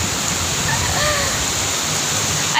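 Rain falling outside during a cool, breezy monsoon shower, a steady dense hiss of water close by, with faint bird calls in the background.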